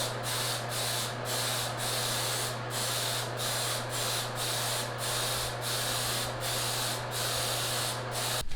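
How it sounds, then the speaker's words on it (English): A spray gun coats a sanded bathroom vanity cabinet with paint, a loud steady hiss broken by short regular dips as the trigger pauses between passes, with no voices. "now I'm gonna respray it and get this finish to look the way it's supposed to"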